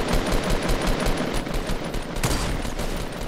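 Rapid sniper rifle shots in a Fortnite Battle Royale duos match, a loud dense burst of gunfire sustained throughout with one sharper crack near the end.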